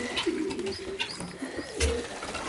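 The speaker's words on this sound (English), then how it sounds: "because the pigeons poop in it." Pigeons cooing on a farm on a winter morning, soft repeated throaty coos at moderate distance, with a low burst near the end.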